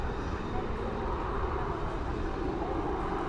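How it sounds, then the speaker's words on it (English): An airplane takes off at Dallas/Fort Worth airport in stormy weather with a loud, steady jet roar, a broad continuous rumble that fills the whole moment. "we've got a plane taking off here"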